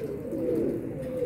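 Pigeons kept and newly released by a fancier coo softly in a single low, throaty, rolling call, faint and a little distant, with no talk.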